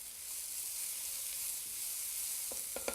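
Onion and garlic stir fry in a pan with a faint, steady sizzling hiss, and a few quick spatula scrapes come near the end with no voices.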